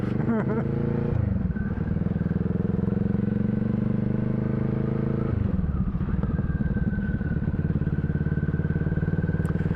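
Motorcycle ride through Bangkok streets in monsoon season, a continuous droning engine that changes pitch as it shifts gear, with steady wind rumble and a nearby voice talking over it.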